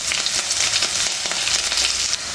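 Green chillies dropped into hot oil with garlic and ginger for a mango, carrot and pineapple pickle, giving a dense, even sizzle that continues at close range without any voices.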